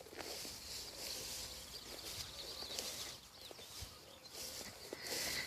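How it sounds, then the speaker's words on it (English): Birds sing outdoors on a homestead on a sunny day, with scattered chirps and calls over a soft outdoor background, plus a few faint thumps and rustles. No one speaks. "Listen to those birds."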